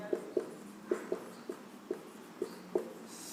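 Chalk taps and strokes on a board as an equation is written in a maths lesson, about eight short, fairly faint marks in an irregular rhythm, heard alone.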